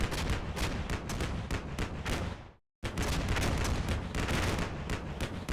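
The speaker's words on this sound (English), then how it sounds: "It looks like somebody is area firing somewhere" Area fire in the wargame Combat Mission Black Sea: dense, continuous bursts of gunfire and distant blasts roll on steadily, cut by one brief moment of silence before resuming at the same intensity.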